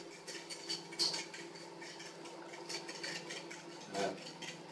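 Whisking chocolate tart mixture in a bowl gives a steady, soft clatter and scrape of the whisk against the bowl, continuing evenly throughout at close range.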